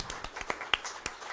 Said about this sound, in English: So I guess we can give them a round of applause